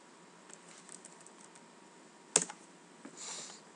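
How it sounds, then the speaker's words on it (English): A computer keyboard is typing the ifconfig command into a command-line interface while a home web server is being set up. The keystrokes are faint, sparse and close, with one sharper click standing out from the quiet background. "just go ahead into the command line interface and type ifconfig"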